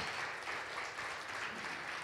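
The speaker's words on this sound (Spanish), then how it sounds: "¿Se anima a que le demos un fuerte aplauso al Señor?" A church congregation applauds in praise of the Lord, a steady wash of many hands clapping at a moderate distance, even and unbroken throughout.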